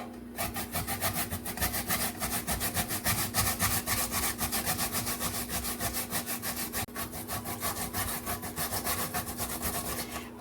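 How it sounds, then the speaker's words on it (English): Peeled cassava grated by hand on the prickly side of a metal grater, a steady, fast back-and-forth rasping that runs close and loud throughout, with no talking. "the first thing I'm going to do is grate the cassava"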